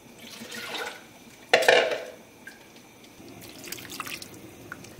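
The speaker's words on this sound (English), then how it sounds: "I'm also going to put a little water in here and swish it around and pour it in there." Water swished around a container and poured into a cooking pot in a homestead kitchen, with a splashy pour burst mid-clip and softer dribbles and drips before and after, close by.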